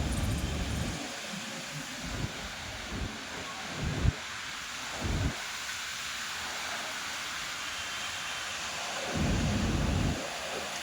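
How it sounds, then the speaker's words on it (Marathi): Strong gusty wind shakes a jamun tree, heavy low rumbling buffets that surge and break off repeatedly over a constant airy roar, with no voices. "वारं नुसतं जोराचं सुटलंय."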